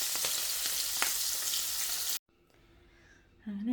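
Mackerel fries in a pan with a loud, bright crackling sizzle for about two seconds. It then cuts off abruptly to a much quieter room with faint clinks.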